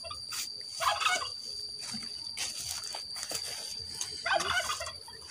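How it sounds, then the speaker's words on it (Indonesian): A turkey gobbles outdoors near an isolated rural house, with two or three rough bursts of gobbling fairly close over a hissy background with insect buzz. "Itu ada ayam kalkun ya, tuh."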